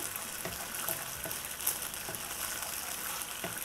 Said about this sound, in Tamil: இப்போ இது நல்லா கொதிச்சிட்ருக்கு